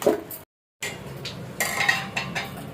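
Eggplant and tamarind are mixed firmly in a metal vessel for a raw tamarind stew, giving close clinks and scraping stirs in short bursts, with a brief silent gap near the start.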